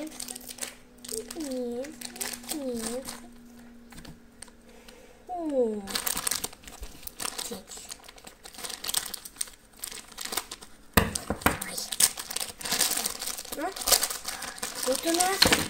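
Thin plastic packaging crinkles and rustles during the unboxing of an LOL toy, with bursts of handling noise and a voice talking on and off.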